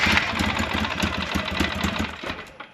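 An ATV engine, freshly fitted with a new fuel pump, runs rough and uneven with a sputtering, stuttering rhythm before fading out and dying near the end.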